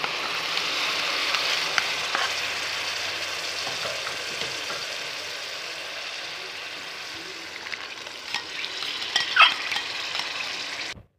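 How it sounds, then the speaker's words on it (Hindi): A loud sizzle of tomato puree hitting a hot pan with garlic and ginger paste, gradually calming, followed by stirring and scraping sounds. "अब मैं इसमें टमाटर की प्यूरी ऐड करने वाली हूँ"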